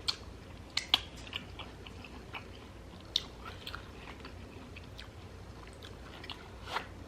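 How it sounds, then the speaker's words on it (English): Crunchy raw jicama being chewed in carne asada tacos, close up, with soft irregular bites and crisp crunches over a low steady background, no talking. "The jicama is crunchy"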